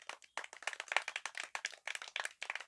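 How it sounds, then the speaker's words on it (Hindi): Children clap together at a school gathering honouring a Dalit student who topped his class, a quick, uneven burst of many hands beating in a close, steady patter with no talk over it. "ये बच्चे जब ताली बजा रहे हैं"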